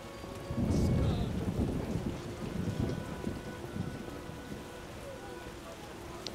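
Rain falls steadily in The Witcher video game while a deep roll of thunder swells early and slowly fades beneath it. The sound is moderately quiet, with no speech.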